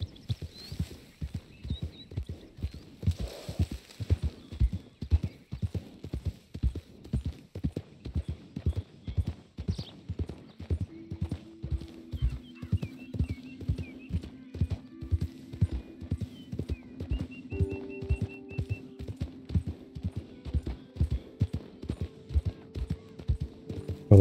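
A horse in the video game Red Dead Redemption 2 clip-clops along in a steady, even rhythm of hoof strikes for the whole stretch, close and distinct, with soft game music rising in partway through.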